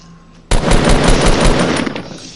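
Gunfire in a video game erupts suddenly after a quiet moment, a rapid automatic burst of loud shots in quick succession, sustained for about two seconds.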